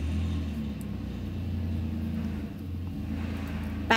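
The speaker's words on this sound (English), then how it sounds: "you're going to hear the car" A car's engine rumbles low and steady close by, a continuous idling drone that eases slightly as it pulls away, with no talk over it.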